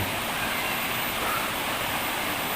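Curug Lontar waterfall in Leuwiliang, Bogor, a loud, continuous broadband rush of falling water over rocks, steady and close with no talking.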